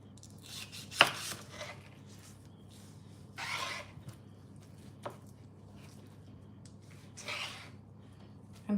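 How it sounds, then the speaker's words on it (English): A knife cuts through a chicken thigh and drumstick on a board, giving a few sparse, faint cutting and scraping sounds with a sharp tap, separated by quiet gaps. "I'm just gonna cut it right here"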